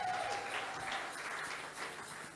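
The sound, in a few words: congregation applauding for Jesus Christ in church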